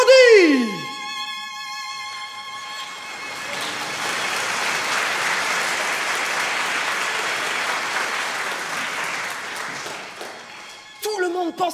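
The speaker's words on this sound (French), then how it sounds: "le public l'acclama et applaudit" Applause from a bullring crowd swells into a sustained, dense wash of clapping heard from a distance, following a short musical phrase and fading out near the end.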